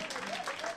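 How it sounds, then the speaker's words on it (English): A church audience applauds at a gospel assembly, a dense, faint wash of clapping through a brief moment, with voices mixed in. "come on, give God a great big hand of applause today."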